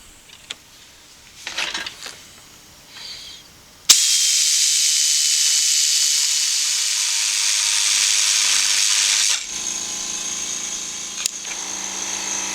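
A panel saw trims the burnt end off the fiber optic light strip of a car's LED running light, cutting in one loud, steady hissing whir for several seconds, then dropping to a softer hum with a few faint clicks and handling noises before it.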